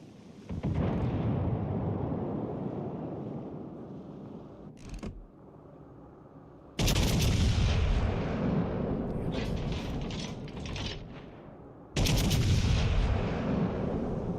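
Heavy naval guns boom from warships in the video game World of Warships Legends, with loud sustained blasts and rumbling salvos separated by brief quiet gaps.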